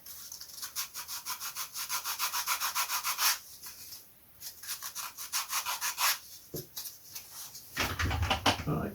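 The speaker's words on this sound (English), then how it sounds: "Just going to sand down to the line on that side." Sandpaper worked down to a marked line on a part for a scratch-built Lunak aerobatic vintage model glider, heard as close, rhythmic back-and-forth rubbing strokes in several runs with brief pauses between them.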